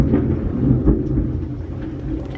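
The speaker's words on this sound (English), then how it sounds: "That was lightning. This like never happens." Thunder after lightning on a rainy day rumbles as a deep, loud roll that swells and slowly fades, with rain hiss underneath and no voices.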